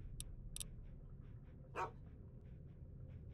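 In Fallout: Tale of Two Wastelands, Dogmeat the dog lets out one short bark amid soft steady panting, faint and close, with a couple of brief clicks early on over a low game hum.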